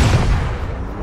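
English naval cannon firing on a ship in feudal Japan, a single loud low boom that rolls off into a fading rumble, with no voices over it.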